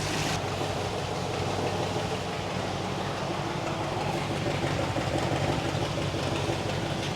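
A 1966 Chrysler Crown Imperial big-block V8, long abandoned, running with a loud steady rumble and hum while being put into gear, constant and close, with no voices.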